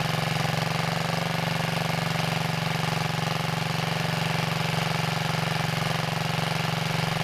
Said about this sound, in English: I want to have the engine running at medium to high speed to adjust the main jet